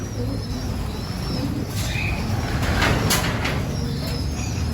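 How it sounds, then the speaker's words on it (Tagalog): Young pigeons in a loft, with soft low cooing and faint bird calls over a steady background hum, several short brighter chirps rising midway. "Bali may mga inakay na nga kami mga kalapatids na ibinaba dito sa Young Bird Loop."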